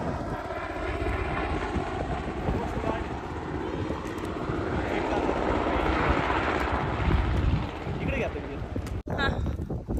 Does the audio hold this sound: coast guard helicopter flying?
yes